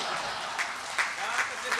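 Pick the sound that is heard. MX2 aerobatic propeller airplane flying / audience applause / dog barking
audience applause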